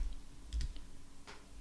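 Keystrokes on a computer keyboard typing a short entry into a chatbot demo: a few quiet, separate clicks, a small cluster near the start and another burst later, over a low steady hum.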